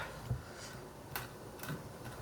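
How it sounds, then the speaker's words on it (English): A few sharp, irregular knocks of a knife roughly chopping on a cutting board while making chicken curry, spaced apart against faint background noise. "just roughly chop the rest of it."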